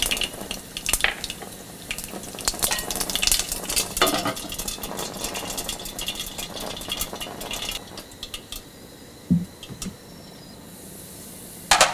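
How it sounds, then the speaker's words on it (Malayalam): Mustard seeds splutter and pop in hot coconut oil in a skillet, a dense run of sharp crackles and sizzling close by, with occasional utensil clinks and the popping easing toward the end. "എണ്ണ ചൂടായി കഴിയുമ്പോൾ എടുത്തു വച്ചിരിക്കുന്ന 1/2 ടീസ്പൂൺ കടുകിട്ട് പൊട്ടിക്കുക."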